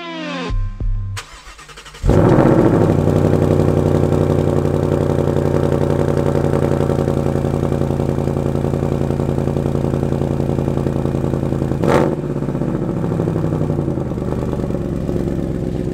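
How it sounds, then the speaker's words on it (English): A 2019 Ford Mustang Bullitt V8 fires up after a brief quiet start, then settles into a loud, steady, rumbling idle close by, with a short rev blip near the end. "here it is, ladies and gentlemen, the 2019 Ford Mustang Bullitt."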